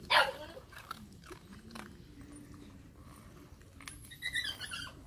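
A young Phu Quoc puppy eats cautiously, with faint intermittent crunching and chewing noises, a few small squeaks and a soft bark-like sound near the start, in a quiet setting.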